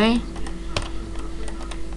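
Keystrokes on a computer keyboard, a handful of separate clicks tapped at an irregular pace, close and fairly quiet over a steady hum, with a brief voice at the start.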